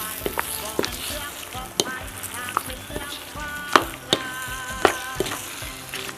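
Softshell turtle and holy basil sizzle in a hot pan while being stirred, a steady frying hiss broken by sharp scraping clinks of the utensil against the pan, fairly close.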